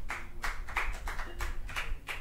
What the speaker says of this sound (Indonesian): Tepuk tangan teman-teman buat 2 orang ini barusan.